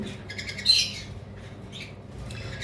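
A small female pet bird with both legs bent gives a few sharp, high chirps, one louder squeak near the start, then quieter tweets against a soft room background.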